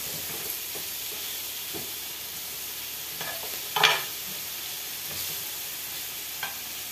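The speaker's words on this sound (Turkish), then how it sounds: "ben bu arada hemen hızlı bir şekilde şöyle tereyağımızın içine doğradığımız soğanları atıyorum" Chopped onions frying in melted butter in a pan give a faint, steady sizzling hiss, with a brief louder crackle from a stir partway through. No talking.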